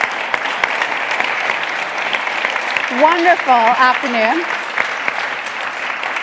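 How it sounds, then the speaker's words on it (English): An audience at a leadership event gives a round of applause, dense steady clapping all the way through, with a voice speaking briefly over it midway. "let's give it a round of applause"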